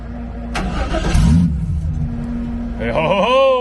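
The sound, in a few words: Chevrolet El Camino engine firing up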